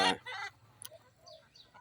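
Laying hens let out a quick burst of loud, close clucks, then softer scattered calls follow as the birds forage.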